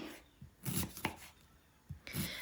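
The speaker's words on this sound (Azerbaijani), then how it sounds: "Bunu xırda-xırda doğrayıram." A knife chops firm cabbage finely on a board, with several distinct close strikes in an uneven rhythm and quiet pauses between them.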